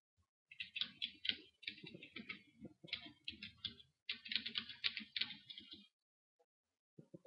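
Fingers type a user ID and password on a computer keyboard for a system login: close, quiet runs of rapid keystrokes in two bursts separated by a short pause, then near silence.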